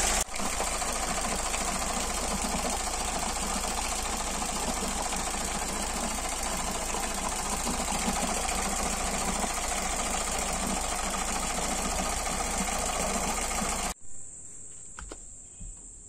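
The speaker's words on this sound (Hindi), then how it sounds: "ये आप देख सकते हो इंजन चल रहा है" A Tata Nano engine with an overheating problem idles steadily, giving a continuous rapid ticking and mechanical rattle close up for about fourteen seconds before cutting off abruptly into near silence.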